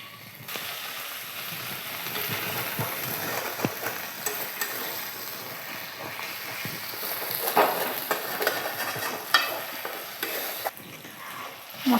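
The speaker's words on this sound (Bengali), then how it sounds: "মশলা ভালোভাবে কষানো হয়ে গেছে, এরপর আমি দিয়ে দেবো টমেটো কুচি।" Chopped tomato and salt added to sautéed spices for doi potol, a moderate sizzle with repeated scraping and stirring strokes of a spatula, close and fairly quiet.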